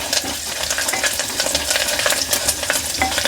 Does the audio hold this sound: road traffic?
no